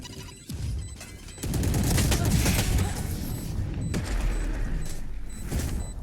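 Grenade blast and gunfire in the Valorant video game, a loud boom followed by sustained rapid shots and crashing impacts that fill the mix, with bursts repeating.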